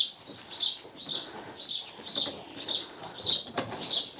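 Baby swallows near fledging in a nest inside a stable give a run of regular high chirps, about two per second, close and clear over a quiet background.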